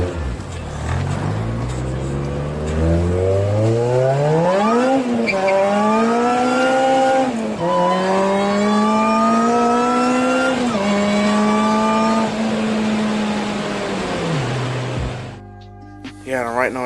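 Car fitted with a Jackson Racing supercharger revving hard, engine pitch climbing through repeated rising pulls with gear-like steps, loud and close, then cutting off near the end.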